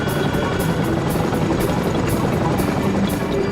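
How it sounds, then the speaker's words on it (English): A Chinook twin-rotor military helicopter flies close and loud over Afghanistan, its rotor chop beating in a steady rapid rhythm over a constant roar. "The Chinook's an American helicopter that's been around for 50 years."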